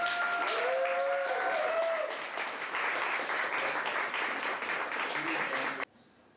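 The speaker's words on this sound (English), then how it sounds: "please give a huge round of applause to poet Barbie" Audience applause fills a room at the Dayton Poetry Slam as a poet is welcomed to the stage: a dense, steady wash of clapping for about six seconds, with a brief tonal sound near the start, before stopping abruptly.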